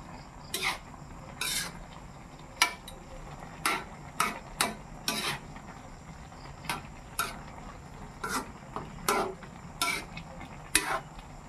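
A spoon scrapes and clacks against a pan while sautéing bottle gourd with crispy bagnet pork and shrimp, giving about a dozen short, sharp knocks at uneven intervals over a faint steady sizzle.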